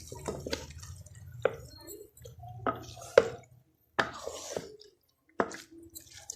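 Spice-coated sohanjna (drumstick) pieces being mixed in a pot, giving soft wet squishes and occasional sharp clinks of a spoon against the vessel, close and intermittent with quiet gaps.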